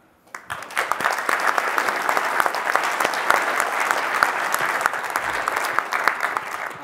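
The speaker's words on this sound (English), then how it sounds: "So I would like to give an applause for the guys who have been actually building super dev mode" A conference hall audience at a software developer event breaks into applause, rising quickly from quiet into steady, moderately loud clapping with crisp individual claps standing out.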